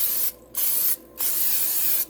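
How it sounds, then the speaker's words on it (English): Pam cooking spray hisses from an aerosol can in three short bursts, coating the sides of a crock pot for a breakfast casserole, close and clear with no talk. "I'm just going to spray a little bit of Pam on the sides because I don't want my breakfast casserole sticking."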